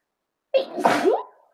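One loud, close sneeze brought on by chhinkni sneezing powder, a sharp intake followed by a forceful burst that trails off, with no other sound around it.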